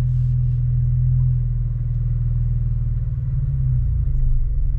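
Steady low engine rumble from a manual-transmission car idling and pulling gently as a learner driver works the clutch, close and continuous with slight shifts in pitch, no talk.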